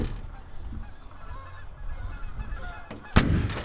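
Geese honk in the distance beside a parked Ford F350 4x4 diesel ex-fire truck, faint calls under steady outdoor background noise, with a sharper louder burst near the end.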